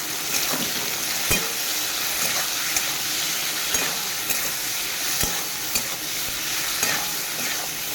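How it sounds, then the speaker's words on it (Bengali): Fish curry of sol fish sizzles in a pan as turmeric is stirred in, a constant loud frying hiss punctuated by regular clinks and scrapes of the spoon against the pan. "একটু হলুদ দেবো এটা নেড়ে চলে নেব"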